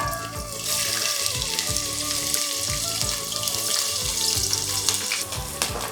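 Finely chopped onions, three medium ones, frying in hot oil for a pithukku paruppu kuzhambu, a steady close crackling sizzle over a pulsing low background, no talk.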